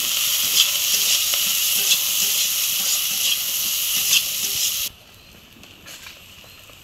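Chopped onion and garlic with green chilies frying and being stirred in a pan for potato peel bhorta, a steady loud sizzle that drops abruptly to a faint hiss near the end.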